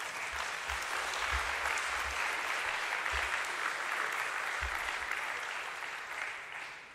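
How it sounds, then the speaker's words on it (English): An audience at a presidential meeting with the eThekwini working group in South Africa breaks into sustained applause, a broad, even wash of clapping from a large room that holds steady for several seconds before easing slightly. "ladies and gentlemen, we need to applaud this even much"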